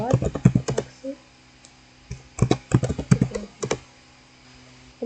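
Commands typed on a computer keyboard, bursts of quick clattering keystrokes in uneven clusters with short pauses between, close and clear.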